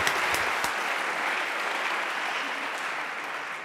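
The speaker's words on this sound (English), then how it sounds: "Round of applause, Francesco." An audience at a JavaScript lightning-talks conference applauds speaker Francesco: a steady, dense wash of many hands clapping close by, holding for several seconds and easing off slightly toward the end, with no voices over it.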